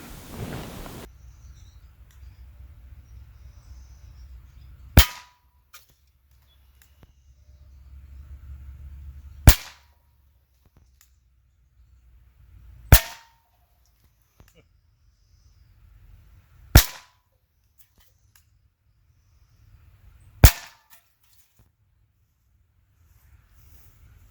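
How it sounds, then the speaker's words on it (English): A Brocock Atomic XR air pistol fitted with a Hawk red dot scope fires at tin cans, five sharp cracks spaced a few seconds apart, each standing alone against near-silence. "I took the Atomic XR in its pistol configuration with the Hawk red dot scope on it, and I shot some tin cans."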